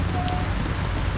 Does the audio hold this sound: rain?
yes